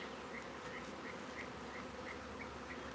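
A honeybee swarm buzzes and fans its wings in a steady, dense hum with no pauses. The sound is faint and there is no talking.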